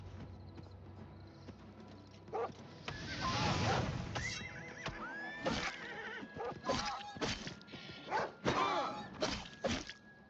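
A horse in the video game The Elder Scrolls IV: Oblivion Remastered neighs and whinnies in several loud, close calls, mixed with hoof clip-clops and brief snorts over steady game ambience.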